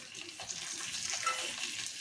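Soft sizzling and stirring of oil tempering in a heavy pan for a rice flour dish, a quiet, brief crackle with a gentle scraping texture.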